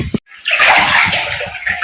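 Water sloshes and splashes inside a Sintex plastic water tank while it is scrubbed and washed, a loud close burst of washing noise after a brief knock and pause.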